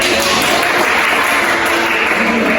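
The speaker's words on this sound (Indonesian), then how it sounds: "Oke, tepuk tangan dulu." Applause from a class of children fills the room continuously at a steady, close level, with no talk over it.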